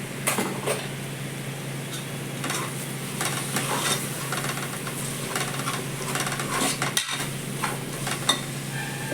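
Vegetable rice sizzles in a pan with ginger-garlic water while a utensil stirs and scrapes through it, with occasional clinks against the metal, steady and close.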